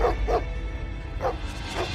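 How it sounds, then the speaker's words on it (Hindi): A dog barks four times in short, separate bursts over a low rumbling background within a Hindi audio drama. "एक जगह को देखकर भौंकना शुरू कर दिया"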